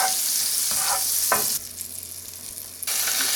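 Cumin seeds crackle and fry in hot olive oil and butter for a tadka, a steady close broadband sizzle with a couple of stirring scrapes, briefly quieter in the middle before the loud hiss returns.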